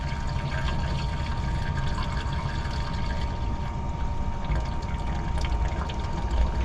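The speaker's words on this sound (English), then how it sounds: "it turns on the bilge pump, and the bilge pump just pumps out" A bilge pump empties shower water from a boat's plumbing, producing a steady rushing, gurgling flow with a low motor rumble that holds constant throughout.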